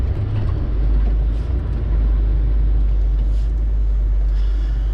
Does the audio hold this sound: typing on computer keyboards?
no